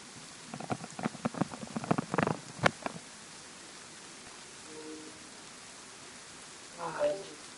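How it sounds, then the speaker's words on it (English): Steady rain falls in the survival video game DayZ, a soft continuous hiss throughout, with short vocal bursts and murmurs over it in the first few seconds and a faint voice sound near the end. "Beautiful rain, eh?"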